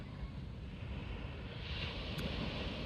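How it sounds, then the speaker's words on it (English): Ocean waves washing onto a shore at a New York City waterfront, a steady broadband wash with wind, moderately loud and continuous, no voices. "just the sound of the waves"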